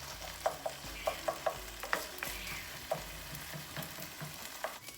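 Chopped chicken sizzles in a hot pan as liquid cooks off, with a spoon scraping and stirring in repeated short strokes over a soft, steady fry.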